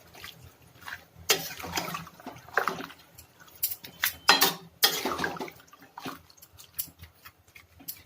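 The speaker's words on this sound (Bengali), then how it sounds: "আমি এবার কিছুটা জল এর মধ্যে দিয়ে দিচ্ছি, দিয়ে খানিকটা নাড়িয়ে নিচ্ছি।" A splash of water goes into a pot of chicken, potato and cauliflower curry, followed by stirring with scrapes and clinks against the pot in irregular bursts, close by.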